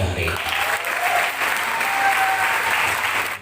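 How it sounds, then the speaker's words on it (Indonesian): An audience at a modern Islamic boarding school event applauding the teachers, a dense, loud burst of many hands clapping that holds steady throughout, up close. "Tepuk tangan buat guru-guru kita hari ini."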